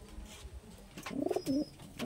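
A large high-flying pigeon gives a couple of low cooing calls near the end, close and fairly clear after a soft rustling start.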